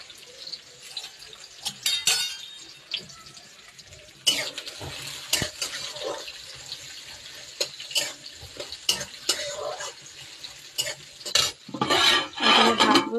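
A spatula stirs frying eggplant and fish in a pan, giving irregular close scrapes and clinks over a faint sizzle, with bursts of busier stirring and no talking.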